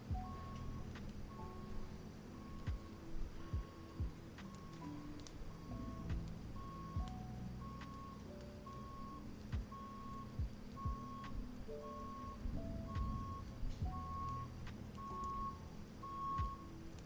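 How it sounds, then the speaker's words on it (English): A vehicle's reversing alarm beeps steadily in a regular, evenly spaced rhythm, faint and distant, over a low background rumble with scattered clicks. "Backup noises."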